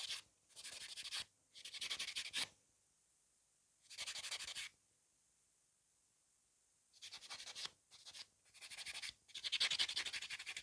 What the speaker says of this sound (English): So I'm just going to quickly give it a buff.